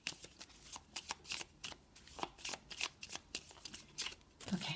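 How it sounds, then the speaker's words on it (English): Tarot cards are shuffled by hand in a rapid series of crisp, papery riffles and snaps, close and fairly quiet, with no talking. "All right, so I'm just going to start shuffling these cards."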